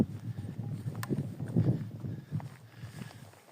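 A small pony walks close by, its hooves clip-clopping in an uneven, soft rhythm on the ground along a pilgrimage route, with no one speaking over it.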